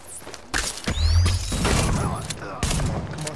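Shotgun firing in the video game The Division, a few heavy booming shots spaced apart with mechanical clatter between them, loud, with someone talking over the gunfire.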